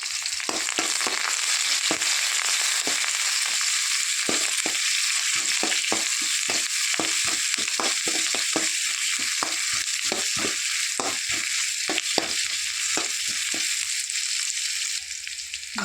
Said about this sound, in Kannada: ಇವಾಗ ಫ್ರೈ ಮಾಡುವ